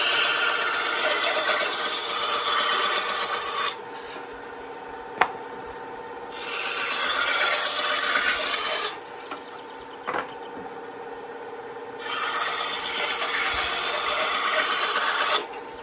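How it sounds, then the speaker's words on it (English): Scrap wood pieces being cut to even lengths for DIY cable spools, likely with a handsaw: three bursts of steady, close rasping cuts separated by pauses with a couple of sharp knocks. "I'm going to cut these fairly even as best as I can."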